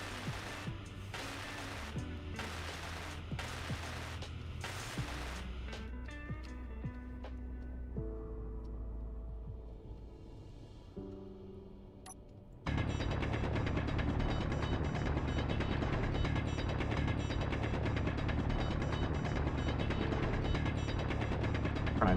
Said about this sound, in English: Weld this up.